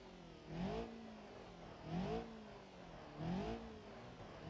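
A video-game car engine with a wobbly idle, started and left running, heard as three slow, rising revs in turn over a steady rumble, near and without talk.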